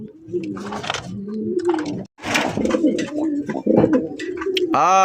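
Red-coloured Rajgolla pigeons at a farm give low, throaty coos in repeated bursts, close by, mixed with someone talking over them.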